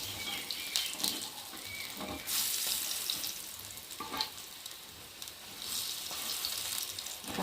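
Shiuli leaf fritters frying on a tawa give off a continuous crackling sizzle with bursts of spattering hiss, close and steady, with no talking.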